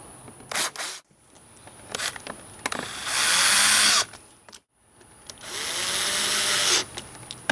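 A power tool tightens plastic bolts on a Banshee in two or three whirring bursts of about a second each, separated by short clicks and pauses, close and fairly loud.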